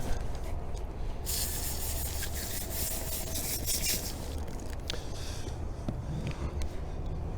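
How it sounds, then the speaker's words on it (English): Water from a tap rinses a duck gizzard during home duck processing, a steady broadband splashing hiss that runs unbroken and fairly close for the whole stretch, with no talking. "Kind of rinse off your gizzard."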